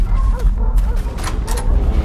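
Several dogs in the horror game Underhell bark and whimper in short, yipping bursts over a low rumbling game ambience, moderately close.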